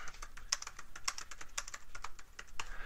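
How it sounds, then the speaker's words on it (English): Keys on a computer keyboard are struck in quick, light, irregular clicks. The typing is close and fairly quiet, with no voices. "the way you work within this, you can type right in here"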